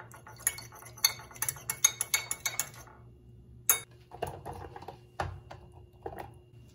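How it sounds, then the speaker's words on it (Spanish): A spoon clinks and scrapes rapidly against a container while stirring cornstarch into water to dissolve it, a burst of bright metallic taps followed by a few scattered knocks. "Voy a revolver para que se disuelva."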